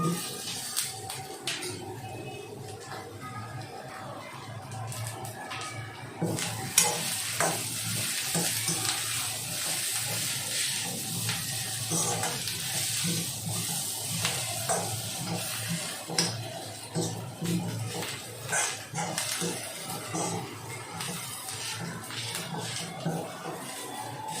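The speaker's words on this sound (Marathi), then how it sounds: "खोबरं थोडंसं तेलामध्ये आपलं व्यवस्थित भाजलं पाहिजे" Dried grated coconut roasting in a little oil in a pan, with a steady soft sizzle and frequent scraping stirs throughout, close and continuous, with no talk over it.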